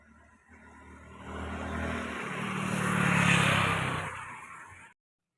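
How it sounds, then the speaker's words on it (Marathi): A vehicle passes on a road with evening traffic, its engine rising from faint to a loud close peak and then cut off, with no voices heard. "खूप सारी ट्रॅफिक सुरू झालेली आहे आणि कंपन्या सुटलेल्या आहेत"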